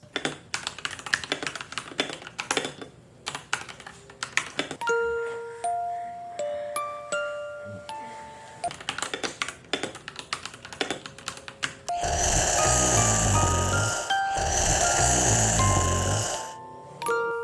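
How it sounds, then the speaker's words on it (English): Fast, crisp clicking of keys on a budget mechanical gaming keyboard, heard close up in uneven bursts, joined partway through by a louder, sustained whooshing noise. "Typing on the keyboard, in my opinion, is very satisfying"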